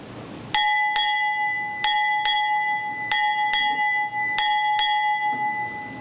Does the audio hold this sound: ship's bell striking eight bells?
yes